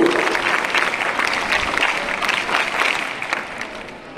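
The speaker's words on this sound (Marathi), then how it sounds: "सर्व विद्यार्थ्यांनी टाळ्या वाजवून त्यांचं स्वागत करत आहेत." Students applauding to welcome a guest at a school felicitation event for sports achievers, a dense, steady round of clapping from a crowd, moderately loud and tapering slightly near the end.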